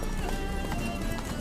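Roach the horse galloping in The Witcher 3, steady rapid hoofbeats close and loud under a continuous bed of game sound, with a brief whinny-like note mixed in.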